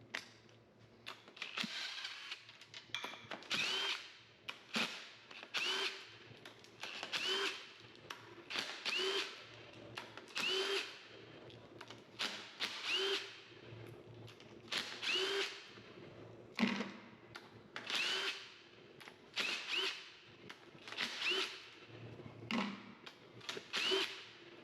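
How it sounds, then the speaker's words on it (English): Power tool backs out the flange cover bolts on a Vilter VSS compressor in a series of short whirring, ratcheting bursts, about a dozen spaced a second or two apart, moderately close with quiet gaps between. "Next, we'll remove the flange cover bolts."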